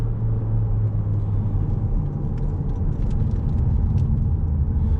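Opel Insignia 1.6 Turbo 180 hp car driving, a steady loud engine rumble and road drone that holds throughout with no voices.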